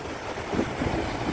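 Sea waves wash onto a beach in a steady, broad rush of surf mixed with wind buffeting the microphone, with no voices.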